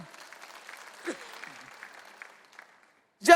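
Church congregation applause fades out as a soft, scattered patter that dwindles into near silence, ending with a brief loud burst at the close.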